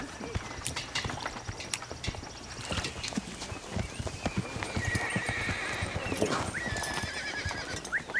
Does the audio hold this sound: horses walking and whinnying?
yes